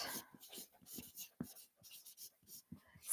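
Handwriting with pen on paper, heard as faint, close scratchy strokes in short irregular bursts with small gaps between them.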